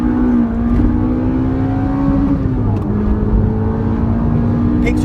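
A Toyota Corolla T Sport engine revving hard under acceleration, a loud, close, rising engine note that holds steady, dips slightly and climbs again, with faint voices underneath.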